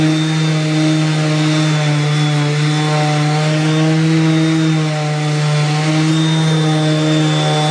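Handheld power sander running on a wooden subfloor, a loud steady droning whine with a strong buzzing hum that holds continuously from start to end with no talk.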